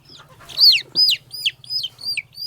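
Ten-day-old country chicks on a poultry farm chirp in a rapid series of about six shrill peeps, close and clear, over a faint low background hum.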